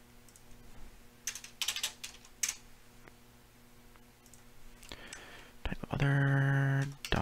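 Typing on a computer keyboard during a Python coding session comes as scattered key clicks in short bursts, fairly faint, ending with a louder tonal beep-like sound.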